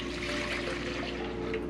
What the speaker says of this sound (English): So I'm gonna add the white vinegar.